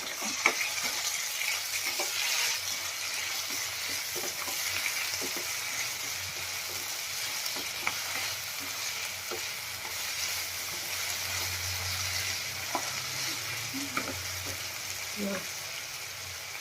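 Potato poha with turmeric and salt sizzles steadily in a pan while it is stirred, giving a continuous close frying hiss with occasional soft scrapes and taps.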